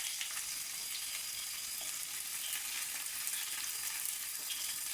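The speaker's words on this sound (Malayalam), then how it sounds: "ഇനി നമ്മൾ വലിയ ഉള്ളി ഇതിലേക്ക് ഇട്ട് കൊടുക്കുകയാണ്" Big onions dropped into hot oil in a pan, frying with a steady, even hiss and crackle that holds at constant loudness throughout, close up, with no voices.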